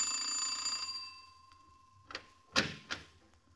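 A ringing doorbell sound effect from a classic radio crime drama, The Chase: a steady electric ring for just under a second, then a short pause and a few sharp knock-like clicks, fairly close and clear.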